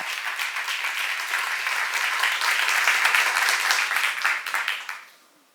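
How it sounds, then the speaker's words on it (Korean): Sustained applause from a church congregation at a seminar, steady and full for about five seconds before quickly dying away. "박수 한번 하세요."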